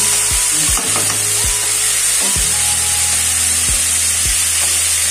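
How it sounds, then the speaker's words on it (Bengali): Onion and potato frying in a pan, a loud continuous close sizzle with repeated spatula scrapes and clinks against the pan every second or so, heard alone. "পেঁয়াজ আলু ভাজাটার গন্ধ ভেরি বেশি হচ্ছে"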